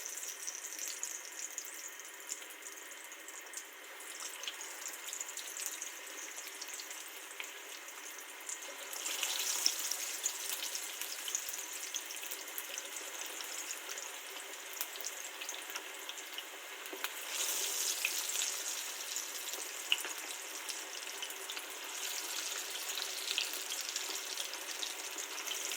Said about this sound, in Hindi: ये 4 घंटे के बाद अब मैं इन्हें फ्राई करने लगी हूँ।